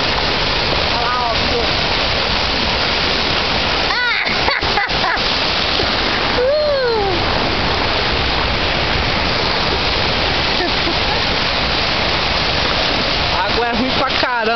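Salty seawater splashing and surging loudly at a beach, a constant wash of churning water with people's voices calling out over it now and then.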